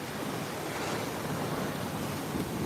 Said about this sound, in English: This is the Atlantic Ocean in Fort Lauderdale, Florida.